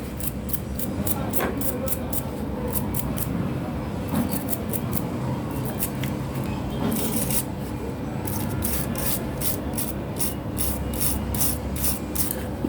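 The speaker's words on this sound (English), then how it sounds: "Need to brush it." A brush scrubs a liquid-damaged HP EliteBook 1030 G2 laptop motherboard in steady, close, rasping strokes, with rapid repeated bristle scratches continuing throughout.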